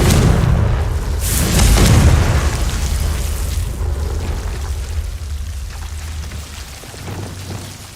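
A fiery spell explosion from a wizarding video game: a loud burst that swells and rolls off into a long crackling, rain-like hiss fading away, with no talking.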